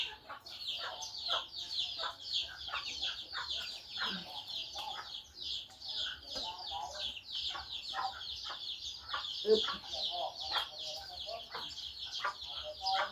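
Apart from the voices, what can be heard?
chickens clucking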